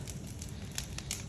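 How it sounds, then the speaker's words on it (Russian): Spring bonfire of dry branches and freshly pruned blackberry canes in a garden, giving a steady low roar with scattered sharp crackles and pops close by, no talking. "И сейчас вот жгу костер."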